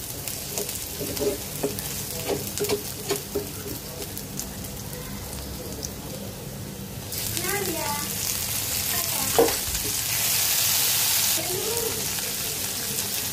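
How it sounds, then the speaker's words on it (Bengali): Onion, ginger and tomato fry in oil for a Bengali fish curry while being stirred, giving a steady close sizzle with scraping stirs and a louder hiss burst near the end. "পেঁয়াজটা আদা ভাজা হয়ে গেলে টমেটো দিয়ে দিবে এটার মধ্যে।"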